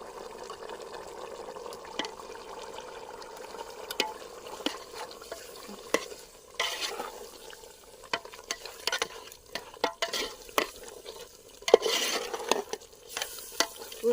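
A spice masala of salt, turmeric, garam masala and coriander powder is fried for soya biryani, with a soft sizzle under repeated scraping, stirring clinks of a spoon in the pan throughout.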